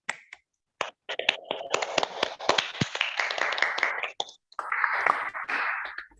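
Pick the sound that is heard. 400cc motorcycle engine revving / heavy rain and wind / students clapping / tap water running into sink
students clapping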